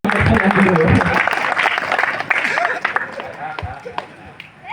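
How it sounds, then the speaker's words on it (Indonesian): An audience at a political gathering applauds, with a loud burst of clapping that gradually thins and fades while a voice talks over it. "tepuk tangan dulu"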